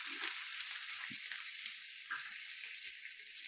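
Curry leaves, green chilli and garlic fry in hot oil with a steady close hiss, and a few soft stirring knocks break in now and then.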